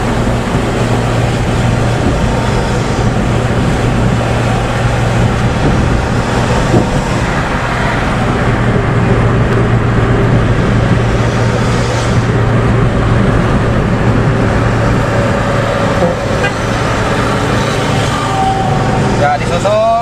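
Road traffic rumbles steadily through a motorcycle convoy heading from Pasar Rebo toward Cikampek, with aftermarket exhausts producing a continuous loud engine drone and a persistent low hum, while people talk over it.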